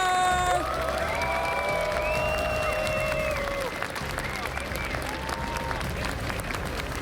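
Arena crowd at IEM Katowice 2023 StarCraft II quarterfinals roars and applauds for the player Reynor, loud sustained cheering with rising shouts and whistles over continuous clapping.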